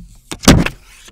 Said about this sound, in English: One of my favorite parts of any unboxing, the film peel.